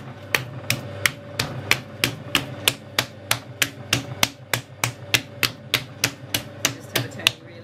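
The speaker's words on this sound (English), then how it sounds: "the best way to start centering is actually the old Japanese technique of beating it." A large lump of clay on a slowly turning potter's wheel is beaten to center it, giving about twenty sharp, evenly spaced thwacks in a steady rhythm, close and loud with no talking.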